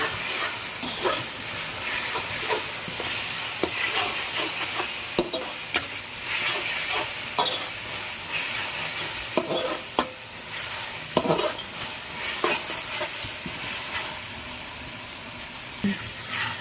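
Garlic paste frying in a pan for egg biryani, with a continuous crackling sizzle broken by frequent scraping and clinking strokes of a spatula stirring it, close and moderately loud, with no voices.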